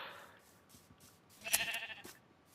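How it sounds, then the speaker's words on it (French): A single sheep bleat from Minecraft, fairly close and brief, rising over a quiet game background. "il y a pas mal de moutons ici."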